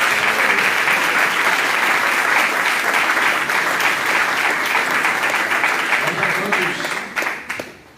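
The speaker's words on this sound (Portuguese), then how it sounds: "Dê uma salva de palmas." A church congregation at a family service breaks into sustained, loud applause filling the room, the clapping thinning and tapering off in the last second or two.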